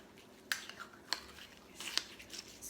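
Utensils clink against a bowl while halo-halo, a Filipino mixed dessert with chocolate candy, is stirred, with a few sharp taps and scrapes spread over a quiet background.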